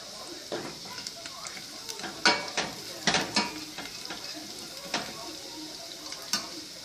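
Okra fries in a pan with a steady soft sizzle, while a utensil clicks and scrapes against the pan in irregular sharp stirring knocks, close by.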